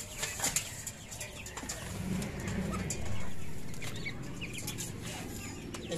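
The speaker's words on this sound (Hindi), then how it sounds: "भाई ये मुर्गी मार रही इसको" A hen clucking and flapping as she attacks a chick inside a cage in a backyard in Karachi, agitated clucks and wing beats over a steady background hum, no speech.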